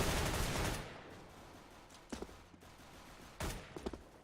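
Video game gunfire in a bomb-planting shooter match comes as a dense opening burst followed by a couple of sharper, shorter shots, moderately loud with no speech.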